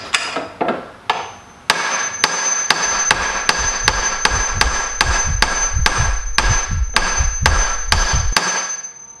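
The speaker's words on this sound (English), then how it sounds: "it's back to the primitive yet effective Hammer and AutoZone Bearing Race Installer Kit" Sharp metallic hammer blows drive a bearing race in with an installer kit on a 1985 Pontiac Fiero, a few spaced strikes then a fast, steady run of loud, evenly paced hits, close up.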